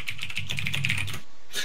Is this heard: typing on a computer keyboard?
yes